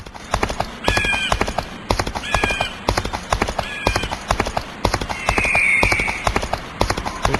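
A horse gallops and neighs in a western gunfighter video game: a steady, close clip-clop of hooves runs throughout, with several high whinnies breaking over it.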